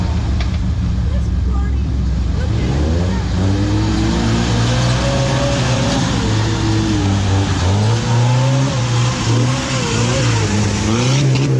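An off-road vehicle with a bad motor mount and a fan hitting its shroud revs hard at an off-road park, the engine pitch climbing and dropping in repeated loud surges, close up, with voices heard underneath.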